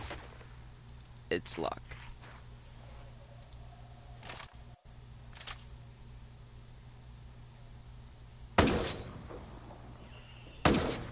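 Sparse rifle shots ring out in Ghost Recon Breakpoint, a few sharp cracks early on and two louder reports near the end, over quiet ambience while someone briefly speaks.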